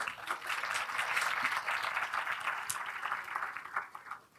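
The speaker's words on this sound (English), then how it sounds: "One round of applause for Rishabh." A room of students gives a brief round of applause, a moderately loud burst of many hands clapping that tapers off.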